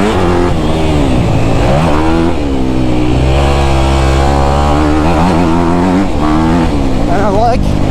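A 2024 Honda CRF250R dirt bike engine revs up and down while being ridden, loud and close, its pitch rising and falling steadily throughout as a voice talks over it.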